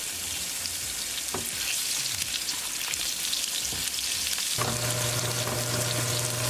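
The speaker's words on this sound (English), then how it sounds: "Now we're going to bring onion, mix it well." Onion frying in hot oil with cumin and bay leaves, a steady loud sizzle with scraping spoon strokes as it is stirred in the pan.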